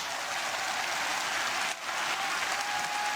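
A crowd applauds at a kickboxing event after a TKO rematch fight, a dense continuous wash of clapping that briefly dips midway before carrying on, with no voices audible.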